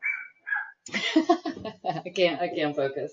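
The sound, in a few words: dog barking at chickens in backyard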